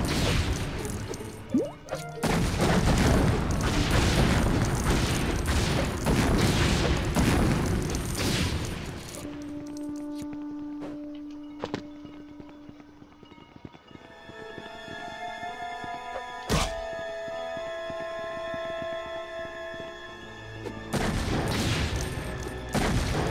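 Crashing and smashing as roadblocks are destroyed in the Lego Indiana Jones video game, dense bursts of breaking debris and booms for several seconds, a quieter stretch with tonal game sounds, then another loud burst of destruction near the end.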